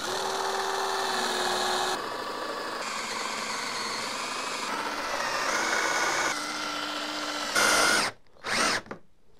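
A power drill whirs steadily through wood for several seconds, its pitch shifting slightly as it bites, then stops with a couple of short bursts near the end.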